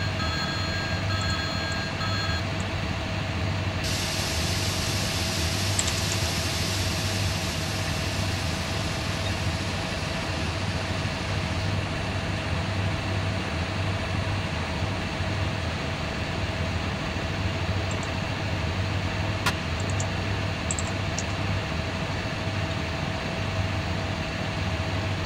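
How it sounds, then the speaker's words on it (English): A ship's main engine runs in a Kongsberg engine simulator as a steady, continuous mechanical drone with a constant hum, broad and unchanging throughout, with no voices. "So the engine, main engine is now running."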